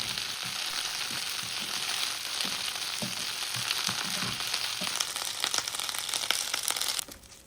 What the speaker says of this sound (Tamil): இப்போ ஒரு பேனில் எண்ணெய் சேர்த்து கருவேப்பிலையை நல்லா இதில் வதக்கி எடுத்துக்கலாம்.